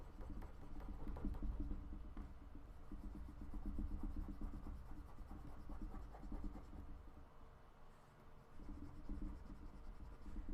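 A pencil eraser is rubbed across paper while ink illustration work is touched up, giving close, soft, continuous scrubbing strokes in quick repeated bursts with brief pauses.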